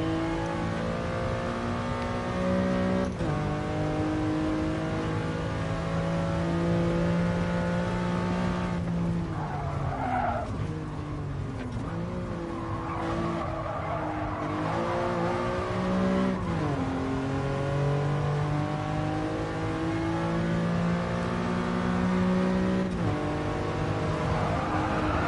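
A Lamborghini race car in Gran Turismo Sport drones steadily at high revs, its engine pitch sweeping up and down as it shifts, with a stretch of tire squeal and skidding under hard braking midway through.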